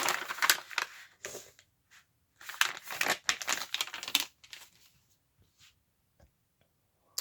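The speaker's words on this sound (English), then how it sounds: "I have a bunch of tea stained papers that I did. I needed them, so just gonna fold them in half" Tea-stained paper sheets being folded in half for a handmade junk journal booklet, giving loud close crinkling and creasing bursts in several clusters, then quieter scattered rustles and taps toward the end, no voices.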